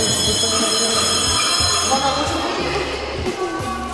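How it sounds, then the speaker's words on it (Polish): An Istanbul tram climbing uphill rumbles and squeals steadily on its rails, with a low, repeating motor drone and high metallic ringing overtones, loud and close. "Tramwaj który jedzie pod górę, zamiast spacerować."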